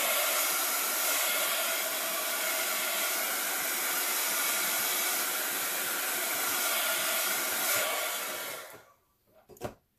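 A hair dryer blows steadily and loudly on an alcohol ink lake-and-sky landscape painting for about nine seconds, then switches off, leaving a few faint handling sounds.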